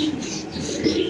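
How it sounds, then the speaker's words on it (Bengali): Racer pigeons in a pigeon farm loft coo in low, overlapping rolling murmurs, a dense, continuous flock sound close by with no clear talking. "এখানে আছে রেসার কবুতর"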